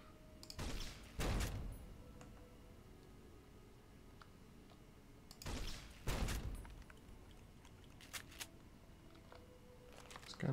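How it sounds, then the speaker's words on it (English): Grenade launcher in Fallout New Vegas: two separate dull, thumping launches a few seconds apart, each a short heavy burst against a quiet background. "Grenade launcher."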